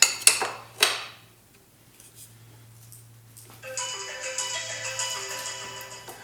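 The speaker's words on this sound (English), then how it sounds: "I'm getting a phone call" A phone rings with an incoming call in a workshop where a tool kit for a dual sport motorcycle is being made, its sustained electronic tones starting after a few sharp clanks of metal tools.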